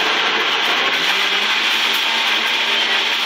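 A Vitamix blender runs on low with a steady, loud, close whirring roar and a broad motor whine that holds constant throughout, with no voices.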